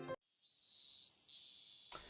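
A chorus of cicadas in the Higurashi visual novel, a continuous shrill, buzzing drone with a slight rise partway, cut in abruptly after a short sound and ending with another.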